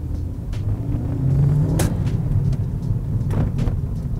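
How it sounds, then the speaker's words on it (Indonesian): A two-door hatchback sport car engine revs under acceleration, a loud low rumbling drone that swells and holds with road and wind noise and a few brief knocks, recorded from inside the car without talk. "Lalu untuk impresi tenaga mesinnya, kita gas aja langsung."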